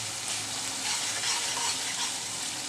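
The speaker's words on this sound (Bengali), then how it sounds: "ভালো করে পেঁয়াজ আদা রসুনগুলো একটু কষিয়ে নিচ্ছি কাঁচা গন্ধটা চলে যাওয়া পর্যন্ত" Onion, ginger and garlic fry in oil in a pan, a dense, steady close sizzle with soft stirring scrapes throughout and no voices.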